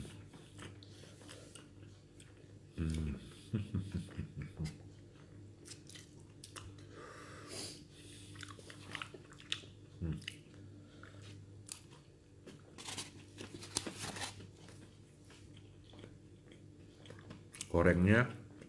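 Someone chews crispy fried ayam geprek chicken with cheese, crunchy in bursts between quieter stretches, close to the mic, with brief speech in between.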